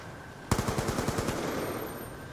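An AK rifle fires in the Black Ops 2 video game, a sudden loud burst of rapid automatic shots with an even rhythm that trails off into reverberant tail.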